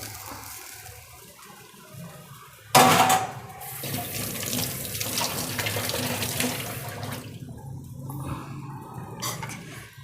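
Water pours steadily into a pan of hot ghee after a sudden splash, a continuous running, gushing flow that fades slightly toward the end.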